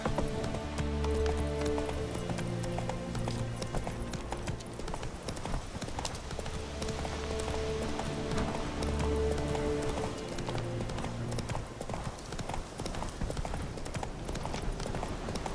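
Roach, a horse in The Witcher 3 video game, galloping with a fast continuous clip-clop of hooves under game music, steady and close throughout.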